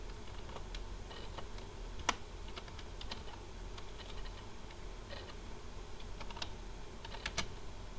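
Someone typing C++ code on a computer keyboard, with soft irregular keystrokes and a few sharper clacks, close and quiet with no voices.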